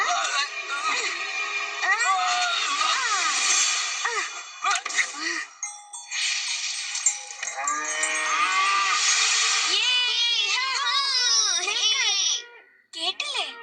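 Cartoon cows moo loudly and repeatedly, their long wavering calls overlapping in a dense herd chorus that runs almost throughout, with a brief dip near the middle and a short drop before the end.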